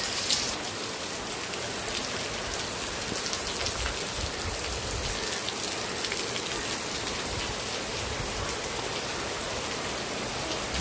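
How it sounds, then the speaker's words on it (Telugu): An unseasonal heavy summer downpour that has been falling for about half an hour, after clouds gathered in the evening, produces a loud, steady hiss of rain pelting surfaces, unbroken and without any voices. "వర్షం మాత్రం మామూలుగా కురవట్లేదు,"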